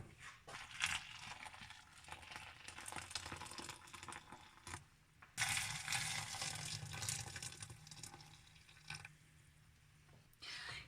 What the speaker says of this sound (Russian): И заливаю все горячей водой.